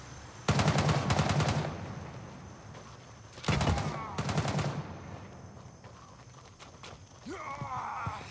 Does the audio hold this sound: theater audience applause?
no